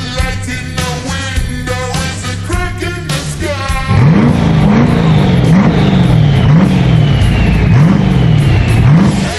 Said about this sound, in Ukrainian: півтори тисячі кінських сил під капотом